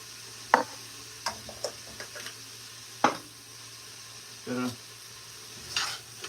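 Vegetables and dried thyme sautéing in a pot for chicken noodle soup, with faint sizzling broken by sharp clinks and scrapes of a spoon stirring at close range, and no talking.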